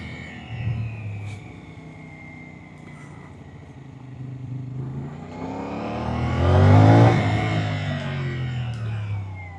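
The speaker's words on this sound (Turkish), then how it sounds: "Şimdi gazlama zamanı." A 450SR motorcycle engine idles and then revs, building to one strong, loud swell near the middle before settling into a steady, throaty drone, heard close up at night.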